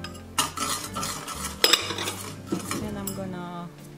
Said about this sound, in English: In a small pot, I'm gonna put sugar and cornstarch together